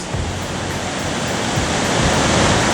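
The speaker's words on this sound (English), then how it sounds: "Here you see the main portion of the falls, water crashing down from the Zambezi River." Victoria Falls on the Zambezi River sends a dense, unbroken roar of crashing water, loud and steady like broadband noise, with no voices over it.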